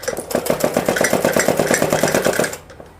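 A sewing machine runs a fine seam to attach piping onto a 31-inch suit. Its rapid, steady mechanical stitching pulses run close and fairly loud for about two and a half seconds, then stop.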